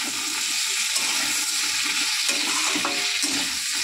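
Food fries in a pan with salt and turmeric while being stirred, a steady loud hiss and sizzle with scraping stir strokes close by, no voices.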